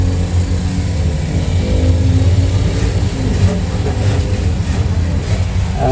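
Motorcycle engine idling and rumbling loudly close by as it is brought in to park at a repair shop, a continuous throaty drone that dominates throughout with no talking.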